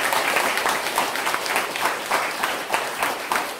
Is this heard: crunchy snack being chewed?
no